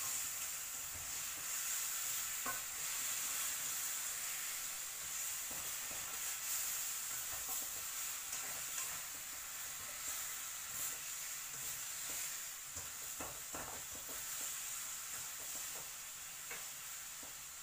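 Adobo with bay leaves being stirred in a hot pan, giving a steady broadband sizzle with scattered scraping clicks of the spoon, close and continuous without talk.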